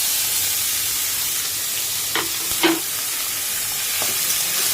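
Potatoes, carrots, capsicum and chilli sizzle softly in a pan, a steady frying hiss with a few light stirring scrapes and clinks; no talking.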